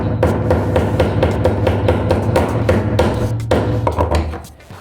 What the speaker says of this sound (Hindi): चिम्मेश्वरी हथौड़ा पीट दिया मैंने